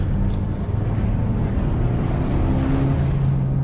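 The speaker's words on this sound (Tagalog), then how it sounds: "Yan na, tinig mo na yung makina." A 2023 Suzuki Dzire engine drones steadily at 2,500 to 3,000 RPM, a loud continuous low hum with some wind buffeting, rising slightly in pitch toward the end.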